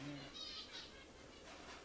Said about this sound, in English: here for a pair of these little birds.